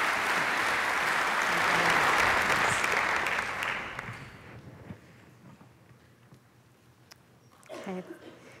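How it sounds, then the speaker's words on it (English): An audience at a summer academic symposium claps loudly for a newly tenured biology professor. The applause is dense and sustained, then fades out over several seconds, and a few faint sounds follow near the end. "let's give her a round of applause for that"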